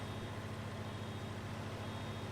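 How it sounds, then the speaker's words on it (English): A farm vehicle in Farming Simulator 19 sounds a steady, fairly quiet reversing beep over the low hum of its engine, with no talking. "You can quit beeping, man."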